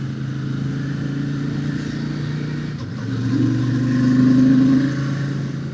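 A Royal Enfield Shotgun 650 motorcycle being ridden on a country road, a steady mid-pitched engine drone that swells as the rider accelerates, heard continuously with no talking.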